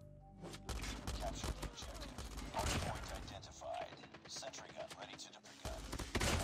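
Dense, continuous gunfire from Call of Duty Mobile, rapid overlapping shots and impacts filling the whole stretch with only brief dips, a match played under a busy game soundscape.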